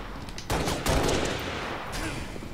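Rapid gunfire in a Halo Reach match crackles in a short, dense burst, loud and close, with a little voice underneath.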